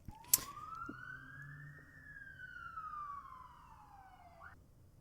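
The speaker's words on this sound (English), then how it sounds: "Geez, that siren, I don't know. I'm sure you heard it in the background." An emergency siren sounds faintly in the distance behind a quiet indoor recording. It gives one long wail that climbs, holds and then slides back down, with a brief knock near the start.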